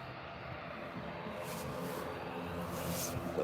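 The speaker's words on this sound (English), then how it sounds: "It's Logan ATR 72600 heading out. You can hear its loud engines in the distance." Turboprop engines of an ATR 72-600 airliner departing Birmingham Airport, a steady distant drone that swells slightly toward the end over a continuous low rumble, with no voices.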